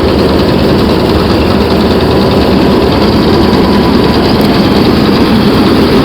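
A combine harvester threshes a crop during harvest, its engine and threshing machinery a loud, steady drone that runs without a break from start to end, close by and with no talk.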